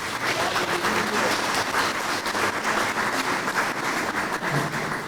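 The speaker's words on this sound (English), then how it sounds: "Please give those dignitaries a round of applause." An audience at a donors' appreciation banquet applauds, with a full, even round of clapping from many people that holds steady for about five seconds.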